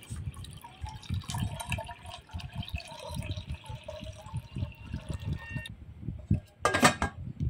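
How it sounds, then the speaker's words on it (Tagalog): Water is poured into a cooking pan for a fish soup, making a faint, uneven trickle and splash that runs on for several seconds. "Maglagay na tayo ng water sa pan."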